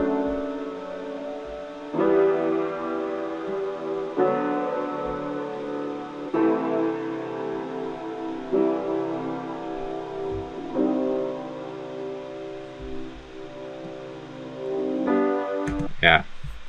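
Song outro with piano and vocals, soft sustained chords moving in slow steps and a voice held over them at moderate level, with no talk.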